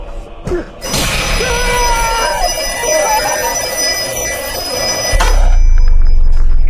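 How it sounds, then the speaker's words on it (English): A telephone rings loudly and close in a psychological horror setting, one sustained burst of trilling bell rings followed by a low rumbling drone, with no voices. "The phone rings again"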